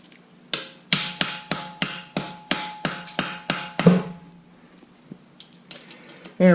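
A TH350 transmission shift kit part being tapped into place with a rubber O-ring: about eleven sharp, evenly spaced taps, close and crisp, followed by a few quieter knocks and a clunk.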